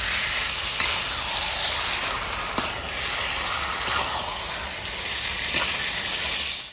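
Chicken pieces with spices sear in a pan as the masala is worked in, a loud, even frying hiss with occasional sharp clicks of stirring, close and continuous with no voices.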